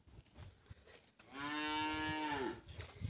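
Cows mooing after being let out onto green pasture: one long, loud, drawn-out moo rises clearly and close, with quieter farmyard background before and after.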